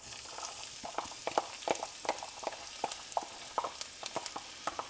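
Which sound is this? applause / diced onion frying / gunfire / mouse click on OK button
diced onion frying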